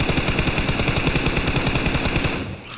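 Sustained automatic fire from an M4 rifle in PUBG, a rapid, steady stream of loud gunshots that keeps going without a break and stops just before the end.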